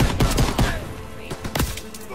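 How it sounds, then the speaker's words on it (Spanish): Rapid bursts of gunfire in Call of Duty: World War II on D-Day crack out in a dense fusillade at the start, then thin out to a few scattered shots. "por qué me disparan a mí y no a Zasma"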